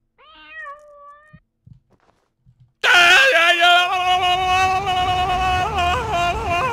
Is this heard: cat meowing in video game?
yes